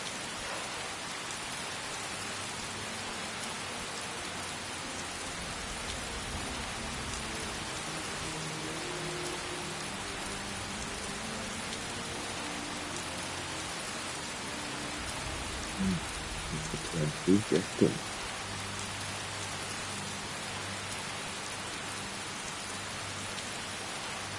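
Heavy rain pours steadily in the video game Skyrim, an even hiss with a few soft thumps near the end and no voices.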